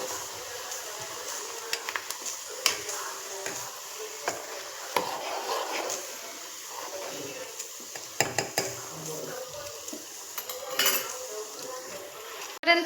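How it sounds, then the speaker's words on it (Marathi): Onion paste and fenugreek seeds being stirred in oil in a pan on a gas stove, with repeated scraping and clinking of a spoon against metal over a soft continuous sizzle, close and clear. "आता हे सगळं हलवून घ्यायचं"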